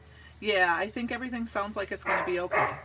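A dog barks in the background of a home while someone talks over it steadily; the barks are faint, short and partly masked by the speech.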